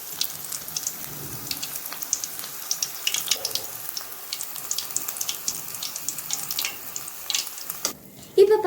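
Onion bhaji frying until crisp in hot oil crackles and sizzles steadily with dense, fine pops, close and moderately loud, while speech is heard faintly at times.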